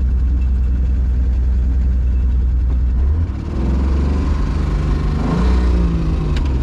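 A 1964 Rambler American wagon engine, running again after 26 years and idling poorly, holds a low steady idle, then dips and surges partway through as the engine note shifts, close and loud without any talking.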